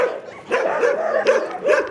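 A dog barks and yips in short, close, excited bursts, about three or four in quick succession, while out on a walk with Pitbull and Bull Terrier dogs.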